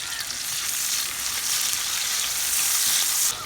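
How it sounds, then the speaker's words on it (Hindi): Chopped onions sizzle and fry in hot ghee in a karahi for chicken karahi, a dense, steady, close hiss running throughout with no talking. "घी गर्म हो गया है, इसमें हम प्याज शामिल करेंगे"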